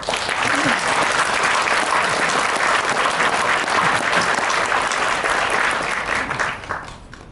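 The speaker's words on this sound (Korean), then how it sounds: "여러분 우리 유 원장님께 큰 박수 한번 부탁드립니다." Loud, sustained applause from a large audience at a founding ceremony, a dense roar of clapping that holds steady before fading out at the end.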